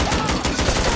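A grenade detonating in a first-person shooter video game, heard as one dense, loud burst of noise that fills the whole second, with a slight low rumble underneath.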